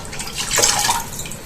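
A little water is poured into a pot of dolmades broth, a short close splashing gurgle that swells and fades, heard alone without talk.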